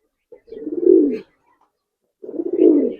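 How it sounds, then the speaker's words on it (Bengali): Giribaz silver pigeons in a loft give two close, loud, rolling coos separated by a brief pause, with nothing else heard. "দর্শক স্পেশাল কবুতর দেখাই"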